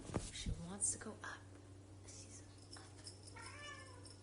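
A cat meows insistently to be picked up, giving short, fairly faint cries indoors while people talk quietly nearby.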